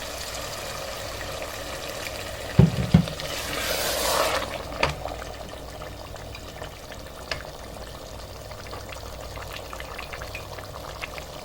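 Water poured into a pan of beetroot mutton curry to make gravy, a brief splash and hiss in the middle of a soft ongoing sizzle, followed by quieter simmering.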